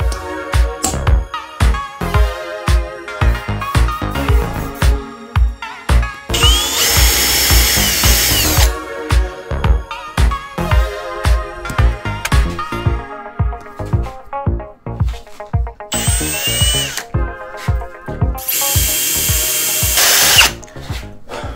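A power drill bores out a stuck bolt on a barn-find Suzuki Katana motorcycle: rapid bursts of whining drilling start and stop repeatedly, loud and close, with a couple of longer high-pitched runs and no talking.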